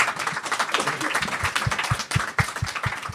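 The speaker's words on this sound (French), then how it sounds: "je propose qu'on applaudisse encore nos 6 chroniqueuses" Steady audience applause with many hands clapping, dense and continuous, with a few louder individual claps standing out.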